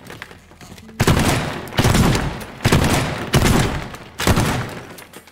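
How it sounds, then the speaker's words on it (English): Five heavy shotgun blasts hit a wall in the video game Teardown, each a loud booming crack with a decaying tail, spaced roughly evenly about a second apart, with no talk. "And then shotgun the wall."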